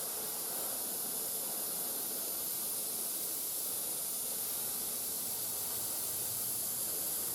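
Steady hiss of spray paint from a can or airbrush onto a Panzer IV scale model, continuous and close, unbroken for several seconds with no talk.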